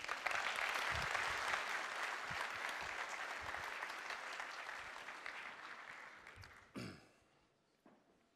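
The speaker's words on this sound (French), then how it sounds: "Sous vos applaudissements," Audience applause at an annual spring ceremony, a broad wash of clapping from a sizeable crowd that holds steady then fades, ending with a few scattered claps and a brief thump.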